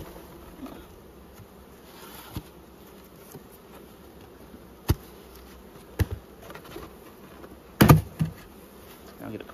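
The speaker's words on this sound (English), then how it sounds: "Shake those bees in." Honey bees buzz in a low steady drone as they are shaken into a hive during spring beekeeping in Australia, with occasional knocks and taps of frames and the box, the loudest thump near the end.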